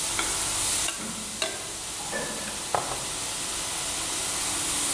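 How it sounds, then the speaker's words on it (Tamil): Ginger garlic paste sautés in a pan for crab soup, a steady hiss and sizzle broken by a few sharp clinks and scrapes of stirring. "நல்லா வதங்கியதும் இஞ்சி பூண்டு பேஸ்ட் 1 ஸ்பூன் சேர்த்து நல்லா வதக்குங்க."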